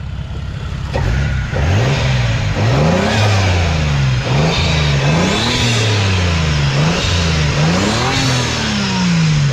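A Toyota Supra's biturbo engine revs hard from the cabin, its pitch climbing and dropping in repeated throttle blips over a loud, steady roar, with occasional voices underneath.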